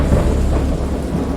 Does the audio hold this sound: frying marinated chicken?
no